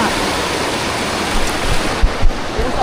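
Broad rushing water from a wide river flows steadily as a dense, even wash, with a few low thumps and knocks near the end.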